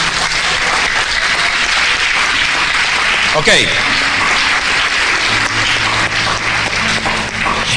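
Sustained, loud applause from a church congregation fills the space continuously, with a voice speaking briefly over the dense clapping partway through.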